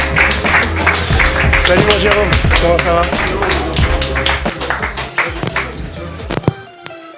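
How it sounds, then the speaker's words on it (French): Studio audience applauding a guest on a French television show, dense clapping throughout with a music bed underneath, while people talk and greet each other over it before it thins out near the end. "Je vous demande d'applaudir Jérôme de Conévol."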